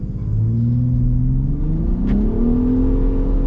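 A car doing a burnout on burnout powder, its engine revving loud and close with rising and falling pitch sweeps over a constant rumble, and no one talking.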